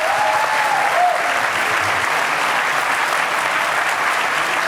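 A full-house theater audience at a televised U.S. Senate debate applauds. The dense, steady clapping continues throughout, and a faint voice comes briefly near the start.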